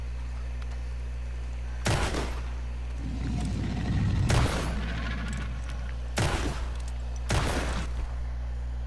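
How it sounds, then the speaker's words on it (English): Explosive rifle rounds fired at a giant bull gator in Red Dead Redemption 2 crack as four loud, separate blasts spaced a couple of seconds apart. A low rumble and splashing sit between the shots. "I killed it in with four explosive bullets"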